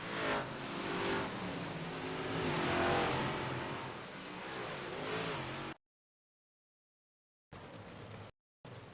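Stock car race on an oval track, with cars roaring past close by in a rising and falling engine drone for several seconds before cutting out to silence, followed by brief bursts of noise.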